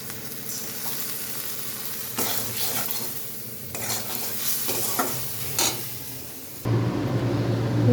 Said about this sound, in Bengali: এটা দিয়ে একটু কষিয়ে নেব সামান্য একটু জিরে পেস্ট